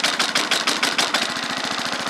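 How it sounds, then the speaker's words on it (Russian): The engine of a FORZA 6.5 motorized towing sled in cold weather, heard close up and loud. Strong irregular chugs settle into a fast, even idle rhythm, with no talk. "Кнопочку убрал, со второго раза завелся."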